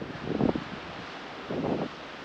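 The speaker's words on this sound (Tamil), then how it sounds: "காற்று ஜில்லு ஜில்லுன்னு அடிக்குது காற்று" Wind gusting through palm trees at a hillside resort in Courtallam, two soft rushing swells of rustling air separated by a quieter lull, steady and moderately loud.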